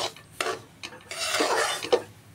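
Semolina and gram flour roasting in a pan for laddoos, stirred with close, dry scraping strokes in a few uneven bursts.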